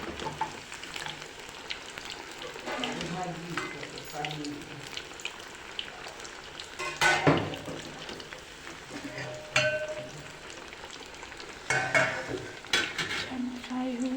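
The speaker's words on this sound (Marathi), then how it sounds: "छान फ्राय होते मित्रांनो. हे बघा मित्रांनो, वडे बनवून निघाले आहेत." Vada fritters frying in oil in a home kitchen, a continuous close sizzle with occasional clinks of a utensil against the pan.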